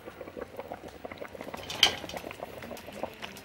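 Rice simmers gently in a covered pot on the stove, a faint, continuous bubbling with soft clinks of the lid and pan.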